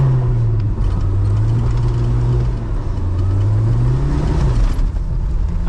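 A Jeep jolting along a washboarded dirt road, a loud, steady engine-and-road rumble with continuous close rattling and bumping throughout, no talk.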